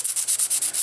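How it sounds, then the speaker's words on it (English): Coarse sanding stick rubbing chunks off Apoxie putty on a scale model, a rapid, steady back-and-forth rasp of about eight close, even strokes, alone and fairly loud. "Just using a coarse sanding stick to sand those chunks off."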